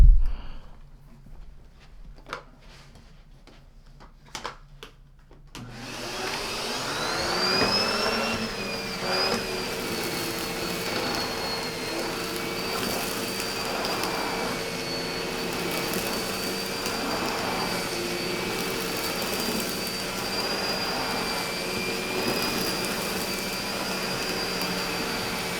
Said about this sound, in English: how the Henry picks up with a big mess test down here, and I have a turbo brush